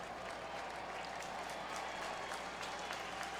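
A baseball stadium crowd of almost 40,000 at a Braves versus Cardinals game cheers and applauds steadily, a broad, dense, sustained roar with no breaks.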